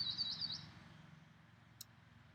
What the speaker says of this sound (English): maybe even notice the sound of the bird, listening to the sound